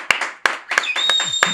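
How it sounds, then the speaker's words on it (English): Audience applause at a comedy podcast recording, heard as a few sharp, separate claps in a short burst, sparse rather than a full crowd ovation. "Round of applause."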